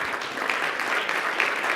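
Steady, dense applause from a conference audience at SphinxCon welcoming speakers to the stage, sustained evenly throughout with no break.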